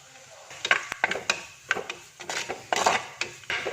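A utensil stirs masala powders into a pan of Kerala-style mussel stir fry, giving repeated close scraping and clinking strokes in an uneven rhythm with a faint sizzle underneath.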